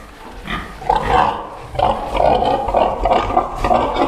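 A large sow lying in a farrowing pen pants heavily with repeated rough, grunting breaths about once a second. The sound is close and loud and has no talk over it.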